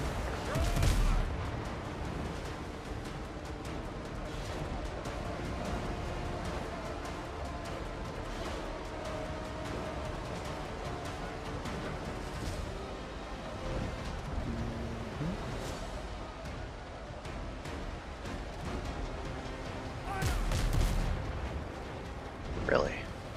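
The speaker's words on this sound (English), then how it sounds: "How about the side cannon?" A ship's side cannon in the pirate game Windrose fires heavy booms, with strong blasts near the start and again toward the end over a continuous rumbling din. A voice talks in places throughout.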